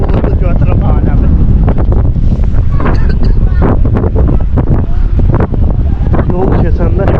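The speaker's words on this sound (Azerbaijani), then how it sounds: "Külək cəhənnəmi, hər şey cəhənnəm, toz buludu götürüb aləmi." Strong wind blowing dust clouds along a street in China, loud buffeting gusts hitting the microphone in continuous rumbling waves, with a person talking over it.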